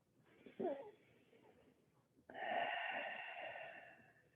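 A long, slow breath drawn during a gentle yoga flow, with a brief sharp sniff near the start and then a sustained, steady airy exhale filling the second half, close and fairly quiet.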